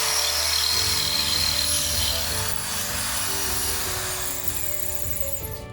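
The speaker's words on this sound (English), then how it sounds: "Okay, so this is where I drill." A power drill whirs while boring a hole into a wall. A steady motor hum shifts in pitch as the bit bites in, and it runs continuously for several seconds with no voices.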